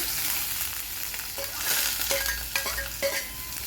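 Crushed garlic and red chillies frying in oil for a bitter gourd stir-fry, with a dense, steady sizzle and a run of soft spatula scrapes against the pan close by.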